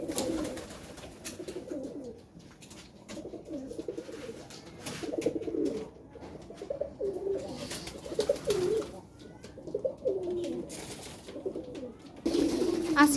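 Domestic pigeons coo in low, repeated rolling phrases that continue throughout at close range, steady and fairly loud, with some wing flutters and faint chirps, and no one speaking.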